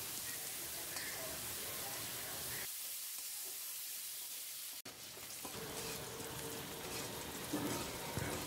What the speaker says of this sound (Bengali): গোটা মশলা আর পেঁয়াজ দিয়ে ভালো করে একটু ভেজে নিলাম।